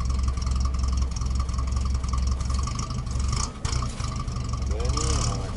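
The engine of a 1955 GAZ M20 Pobeda, with its carburetor and running cold, rumbles at a steady idle and is given light throttle, heard close up under people talking.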